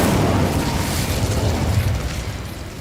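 An Incendio fire spell bursting in the video game Hogwarts Legacy, a loud roaring blast of flame that fills the sound and slowly fades.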